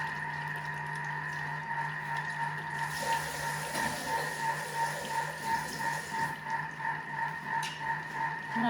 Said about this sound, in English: I will just rinse my next bowl